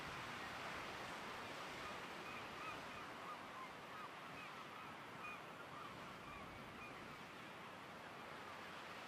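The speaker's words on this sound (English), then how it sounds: "muffled cries of seabirds" Muffled seabird cries drift over the foggy shore of Brier Island, Nova Scotia: faint, scattered wavering calls heard at a distance under a steady wash of surf.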